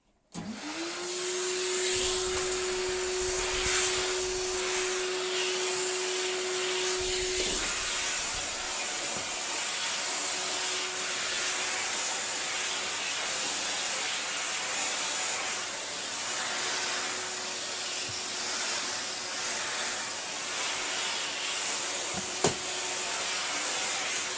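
An Electrolux Slimline Z156 vacuum cleaner runs steadily throughout with a loud, constant whirring hiss and a high whine, close by, with no speech.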